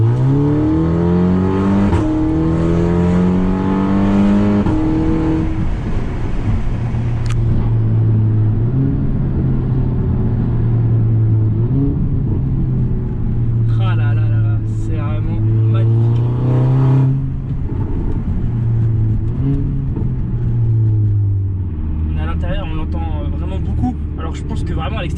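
A 340 hp Audi TTS running on ethanol revs repeatedly in rising and falling surges, loud and close, with voices talking over it throughout.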